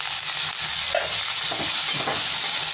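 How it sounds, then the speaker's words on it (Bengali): Carrots, peas and tomato fry in a pan with a steady, dense sizzle throughout, joined by occasional soft stirring scrapes. "গাজর দিয়ে দিলাম, সাথে এখানে আমি মটরটাও দিয়ে দেবো, একসাথেই ভাজা হয়ে যাবে।"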